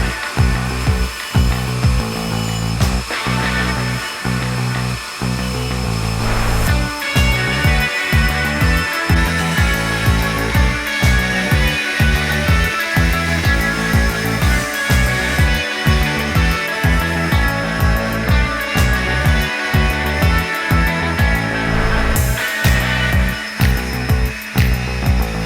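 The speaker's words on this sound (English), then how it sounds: "Now all that's left for this 8-inch chef's knife is to polish up all the tang and all the spine and choil area" Polishing the tang, spine and choil of an 8-inch custom chef's knife: loud, steady abrasive grinding with a regular rhythm of repeated strokes throughout.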